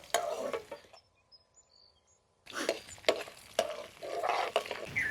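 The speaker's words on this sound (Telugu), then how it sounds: "మీరు గ్యాస్ పొయ్యి కాబట్టి సిమ్లో వేసుకొని తాలింపు దినుసులు వేయించుకోండి" Tempering spices with dried red chillies and green chillies fry in oil over a low gas flame for temple-style tamarind pulihora, a loud sizzle with stirring scrapes that drops to near quiet for about a second and a half, then returns strongly.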